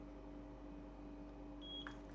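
Label printer emitting a short electronic beep near the end, quiet and clean over a faint steady hum, with no voices.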